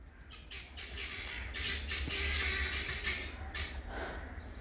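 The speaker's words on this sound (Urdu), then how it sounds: "ہماری چڑیاں بھی لبیک کہہ رہی ہیں" Sparrows chirping in a busy cluster of short, repeated bright calls, fairly close and continuous over a low background rumble, with no talk.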